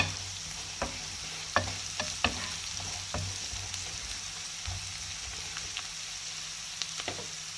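Chickpeas with a little salt are stirred in a pan, a soft steady sizzle broken by sharp scraping knocks of a spoon, louder in the first few seconds, then sparser.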